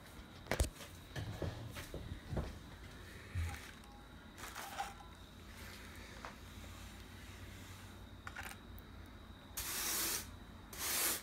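A watery coat being brushed onto a DIY foam rock shelf for reptiles: soft, faint rubbing and dabbing strokes in irregular bursts, with a louder hissing scrape near the end.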